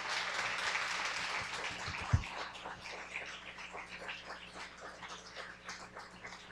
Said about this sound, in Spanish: les pido un nutrido aplauso para ella